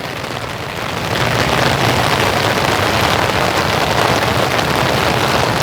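Steady rain pours down on a summer evening in a garden with Japanese maples and shrubs, a continuous broadband patter that thickens after about a second and stays uniform and near, with no one speaking.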